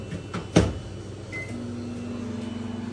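A ZLINE drawer microwave oven with a suspected bad magnetron runs during cooking, giving a steady low hum after a sharp close thud near the start, with a faint brief beep and light clatter before it.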